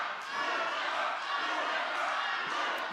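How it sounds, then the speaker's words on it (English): Excited crowd at a longsword fencing match, a continuous broad murmur of cheering and chatter held at a steady level, with no distinct voices standing out. "The crowd is excited."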